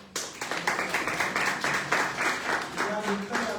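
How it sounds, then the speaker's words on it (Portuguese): An audience applauds the king, a steady wash of many hands clapping at a moderate distance, fairly quiet overall, with faint voices underneath. "Então vamos aplaudir o nosso rei"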